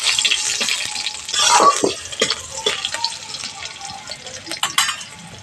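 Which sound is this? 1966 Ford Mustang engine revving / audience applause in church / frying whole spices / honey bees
frying whole spices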